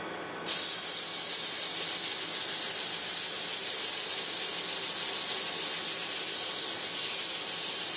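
A wooden disc is sanded with 180 grit Siaflex abrasive, a steady, loud hiss of continuous rubbing that starts abruptly and holds without a break.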